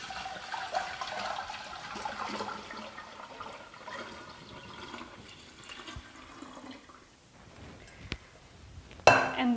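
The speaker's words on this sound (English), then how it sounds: "You're then going to pour this 3 litres into your nice big vessel." Water pours into a large vessel while kombucha is being made, a steady splashing gush with a few clinks of glass near the end.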